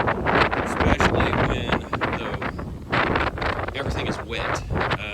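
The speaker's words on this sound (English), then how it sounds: "It is super windy out here." Strong wind buffets the microphone outdoors on a farm, a loud continuous roaring rush with gusty swells, while a person talks briefly over it.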